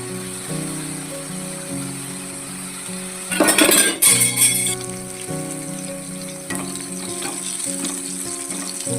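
Cooking in a pan for a Bengali fish curry with mustard paste produces a low background hum with a burst of loud sizzling midway and occasional clinks of a utensil stirring against the pan.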